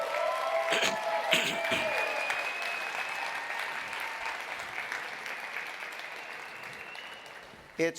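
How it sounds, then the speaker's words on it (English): An audience gives sustained applause at a Duchenne muscular dystrophy event, a dense steady wash of clapping that slowly fades over several seconds, with faint cheering tones and a sharp knock near the end. "Round of applause for these guys."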